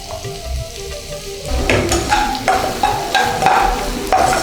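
Chopped ginger, onion, green chilli and garlic fry in a spoonful of oil for Egg 65. A softer start swells into a loud, close sizzle with repeated metallic scrapes and clinks of a spatula against the pan.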